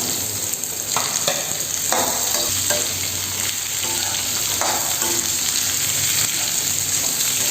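Raw mango pieces sizzle and fry in hot oil in a pan, with steady crackling and repeated scraping strokes of a spoon stirring them, close and continuous with no talking.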